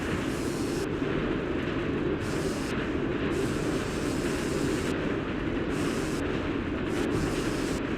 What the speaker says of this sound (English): Now we're just chasing the train.